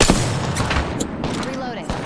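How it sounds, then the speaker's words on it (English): Dense, continuous gunfire from the Vantage character in Apex Legends, rapid shots hammering against a target's shield, loud and close, with game voice chatter mixed in. "Opening fire on the target's shield."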